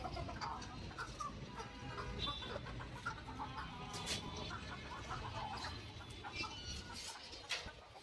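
Farm chickens cluck and call in short scattered bursts amid a busy, noisy poultry-shed background, fairly close with several birds overlapping.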